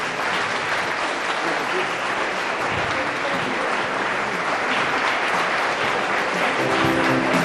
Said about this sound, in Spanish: el reconocimiento y el aplauso de nuestros invitados del día de hoy